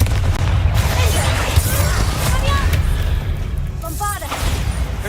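Confringo spell explosions in the video game Hogwarts Legacy: loud, booming blasts and crackling bursts that run together over dense game noise, with voices heard over them.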